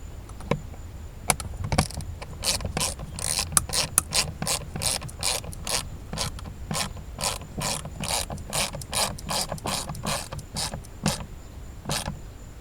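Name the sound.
ratchet with extension snugging screws into plastic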